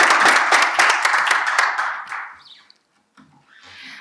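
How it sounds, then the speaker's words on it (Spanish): Loud applause from a poetry event audience: dense, rapid clapping for about two seconds, then thinning into a few scattered claps and fading to near silence. "a lo nuevo se le recibe con un fuerte aplauso"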